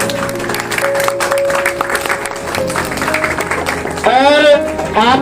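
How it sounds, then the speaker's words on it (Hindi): A crowd claps at a gym's New Year celebration, the applause mixed with background music and a voice speaking over it. "कई बार उनके लिए भी जोरदार ताली बजा दीजिए।"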